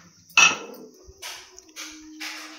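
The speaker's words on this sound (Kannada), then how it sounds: "ನೆಕ್ಸ್ಟ್ ನಾನಿಲ್ಲಿ ಲಿಡ್ಡನ್ನು ಓಪನ್ ಮಾಡ್ತಾ ಇದ್ದೀನಿ." A pressure cooker lid is opened after cooking sambar: a sharp metallic clank, then lighter clinks and scrapes of metal against metal, set apart by quiet gaps, with no talk.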